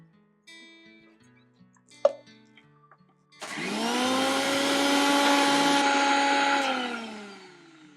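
A kitchen mixer grinder grinds ginger garlic paste with a loud, steady whirring roar that runs for several seconds and then winds down, after a few knocks and a clunk as it is set up.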